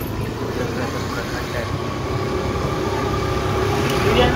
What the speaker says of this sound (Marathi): इकडे बघा इतक्यात ट्रेन आलेली आणि पूर्ण गर्दी झालेली आहे